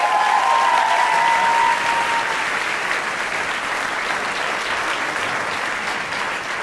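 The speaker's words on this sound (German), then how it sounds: "Riesen Applaus noch einmal für das Team React." Large indoor audience at a science slam in Salzburg breaks into loud, sustained applause that stays dense and even throughout, only easing slightly at the end.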